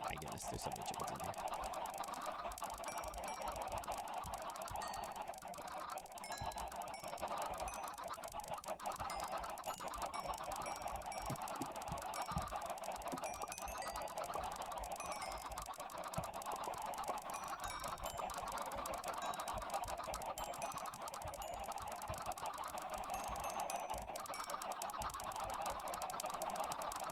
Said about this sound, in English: there literally might be like 150 chickens in here